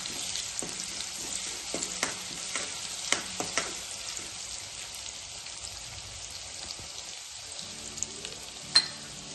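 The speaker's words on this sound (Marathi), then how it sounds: "मी आता हा अर्धा शिजलेला कांदा घालून घेते आणि कांदा चांगला लालसर होईपर्यंत परतून घ्यायचा" Half-cooked onion fries with a steady bright sizzle in a pan for a dry methi bhaji, broken by sharp scrapes and clinks from a spoon stirring through it, with one louder knock near the end.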